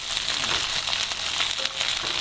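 Teriyaki chicken pieces fry in a pan, a dense steady sizzle and crackle close up with faint clatter as they are turned, no talking.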